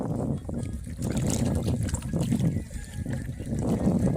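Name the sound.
water gurgling at Topchanchi Lake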